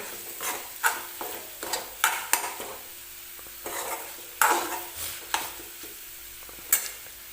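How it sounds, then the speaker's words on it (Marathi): Onion and tomato chutney is sautéed on a flat iron griddle, with a soft sizzle beneath a series of sharp, irregular spatula scrapes and stirs, close by and without speech. "छान परतून घ्यायचं आपल्याला"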